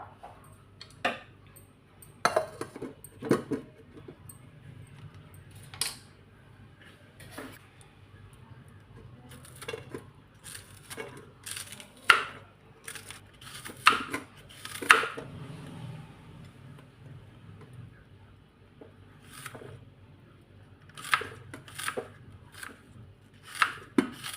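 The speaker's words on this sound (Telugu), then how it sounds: "ఇప్పుడు మనం ఇవి కట్ చేసుకుందాం" A knife chops an onion and green chillies on a board, producing irregular sharp taps in scattered bursts, close and fairly clear with quiet pauses between.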